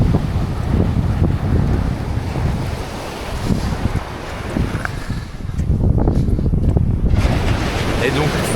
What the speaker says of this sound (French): là ici on voit des belles vagues se former